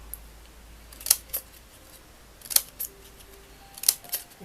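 Fringe scissors snip card edges in three quick, crisp pairs of cuts spaced about a second and a half apart, close and clear over a quiet background.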